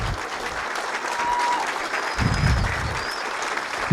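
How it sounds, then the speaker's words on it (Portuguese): Audience applause fills a hall at an evening talk on home living and real estate, a steady dense wash of clapping that swells slightly and carries on throughout with no talk over it. "queria pedir uma salva de palmas para Equilíbrio"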